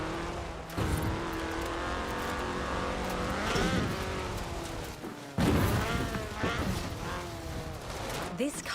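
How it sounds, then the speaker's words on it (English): Ford RS 1800 rally car with a fuel-injected 1790cc Cosworth BDE engine in Forza Horizon 4, revving loudly and shifting pitch through gear changes with a brief cut near the middle, under a person talking. "This was a car designed explicitly for rallying, with a powerful fuel-injected 1790cc Cosworth BDE engine."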